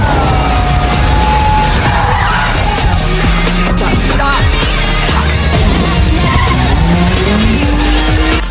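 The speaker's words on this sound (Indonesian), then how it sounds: "Lalu Cat mencoba untuk menambah kecepatan" Cars race through a film chase scene with police in pursuit, engines roaring loudly while tires squeal and skid over a dense, continuous soundtrack.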